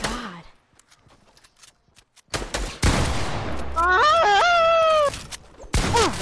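Gunfire in Fortnite: a long, loud burst of rapid shots lasting a few seconds, after a quiet stretch with a few faint pops. A tonal wail and other game sounds run over it, and a short loud blast closes the passage.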